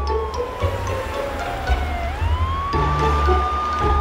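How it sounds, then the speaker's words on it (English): Cartoon emergency vehicle siren wailing steadily, a rising and falling electronic tone that swoops up partway through and then holds, loud over a low engine rumble with no talk. "Sounds like a siren."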